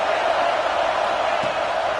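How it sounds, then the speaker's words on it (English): Roaring football stadium crowd cheering steadily on a third down at Arkansas, a dense, loud wash of voices holding at full volume throughout with no break. "Decibels rising as the crowd gets behind this defense on third down"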